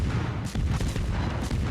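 Forrest Sherman destroyer guns fire in World of Warships, a rapid run of heavy booms with rumbling low thuds that roll into one another over a short span.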